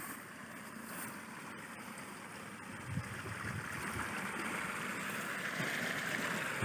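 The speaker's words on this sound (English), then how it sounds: "There's big changes in the amount of water that's coming out." Irrigation water pouring out in a steady, broadband rushing flow, loud and continuous and swelling slightly partway through, with no voices.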